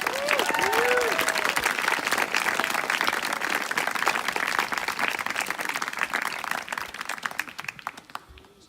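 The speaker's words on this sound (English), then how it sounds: "So let's give them one more round of applause." An audience at a Camp Normanna program applauds the camp staff, a full round of clapping from a crowd that holds steady for several seconds, then thins and fades out.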